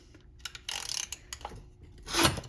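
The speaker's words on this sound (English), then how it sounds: "Grab a ratchet, short socket." A ratchet with a short socket works on a wheel cylinder fitting on a 1992–2000 Honda Civic rear drum brake, making quiet, short mechanical clicks and rubbing bursts followed by one louder scrape near the end.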